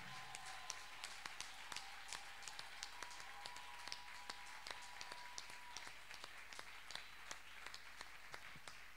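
A church congregation at a Sunday worship service applauds to acclaim the word of the Lord: sustained, fairly distant clapping with sharp individual claps standing out over a soft room background.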